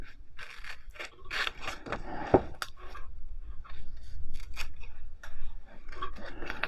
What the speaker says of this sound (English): I'll just quickly fussy cut her out. I'll cut this bit out, really.